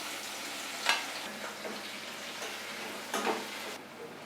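Chopped onions and nigella seeds fry in hot oil in a home kitchen, giving a steady soft sizzle with a few scattered clinks and stirring scrapes, fairly quiet and without talk.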